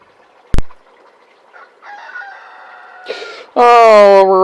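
A sharp knock comes first, then a rooster's crow building from a faint, distant call into a loud, close, harmonic cry that ends the moment.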